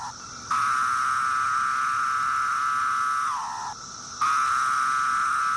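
A loud, steady chorus of Magicicada septendecim cicadas drones as one buzzing whine, briefly dipping in pitch and cutting out twice before surging back.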